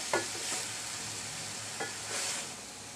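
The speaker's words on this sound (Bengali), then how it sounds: "আমি এরকম নাড়তে নাড়তে পাঁচ ছয় মিনিটের ভিতরে আমার পুরটা রেডি হয়ে যাবে" Chicken and potato filling stirred in a pan, a steady low sizzle with a few soft scraping strokes of the spoon, quiet and without voices.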